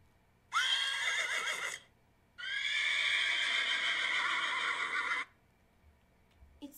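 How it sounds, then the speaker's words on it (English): Horse in the video game Star Stable Online gives two loud, close whinnies, a short one followed by a longer drawn-out neigh, with quiet pauses between them and no talk. "It sounded like a horse."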